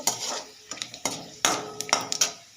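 Crushed garlic and panch phoron frying in a pan, quiet crackling broken by sharp clinks and scrapes of a utensil against the metal, uneven and close.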